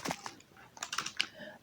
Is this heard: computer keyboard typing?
yes